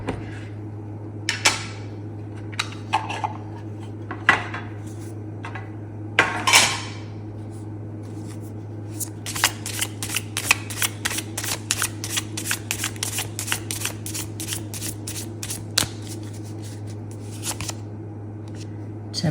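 Generic playing cards and a Wild Unknown Pocket Tarot deck being shuffled, starting with a few separate riffles and slides, then a long run of rapid, crisp card flicks close to the mic over a steady low hum, with no talking.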